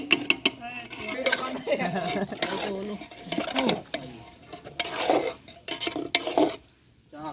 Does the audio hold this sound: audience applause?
no